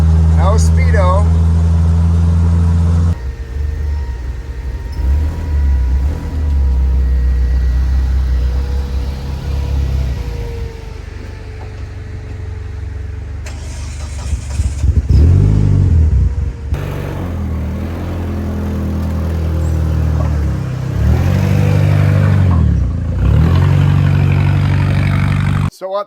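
Car engine running while driving after a cylinder head rebuild, a steady mid-pitched drone that rises and falls through gear shifts and revs, loud and close, with a person talking over it.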